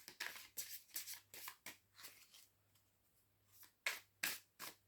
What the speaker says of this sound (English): Help me to shuffle the cards so that we can see clearly.